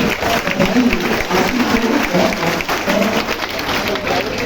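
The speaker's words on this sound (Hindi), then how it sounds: "एक बार फिर से तालियां हो जाए" A room of students at a NEET 2023 award distribution applauds, clapping loud and steady in a mixed crowd while voices and chatter carry underneath.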